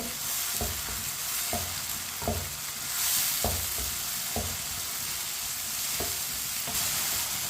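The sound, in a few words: tomatoes frying in a pan, stirred with a spoon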